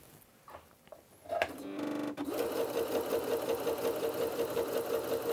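A sewing machine with an A presser foot runs a regular straight stitch, starting with a few clicks and a brief whir before settling into a steady, close, rhythmic motor hum with rapid needle chatter.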